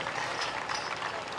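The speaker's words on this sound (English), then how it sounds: "Would you give him a big round of applause here tonight?" Rodeo crowd at the Cle Elum Round Up in Washington applauding, a dense, steady wash of clapping from a large audience, fairly distant and continuous.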